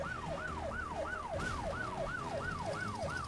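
A police car siren in the driving game My Summer Car wails in a steady rising-and-falling cycle, loud and continuous over faint engine noise.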